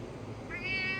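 A barn cat on a small farm meows in a drawn-out, rising call that starts halfway through and carries close and clear to the end over a low background rumble.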